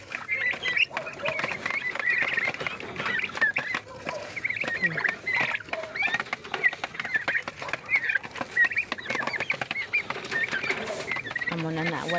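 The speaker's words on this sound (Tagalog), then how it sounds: "kaon nara na sila mga pabo dagko na" Grown turkeys being fed outdoors, busy clucking and gobbling calls close by throughout, mixed with scuffling and other fowl sounds, with people talking at times.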